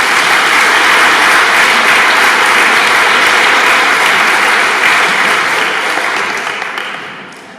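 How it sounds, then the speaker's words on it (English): Loud, dense audience applause at a school event welcoming a writer, steady for several seconds before tapering off at the end. "So please give Catherine a great St. Conlethian applause"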